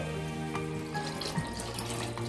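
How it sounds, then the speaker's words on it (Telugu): Water poured from a glass into a pot of rice for palav, a steady running, splashing stream heard close up and alone throughout. "ఇప్పుడు వాటర్ వేసేసుకుందాం"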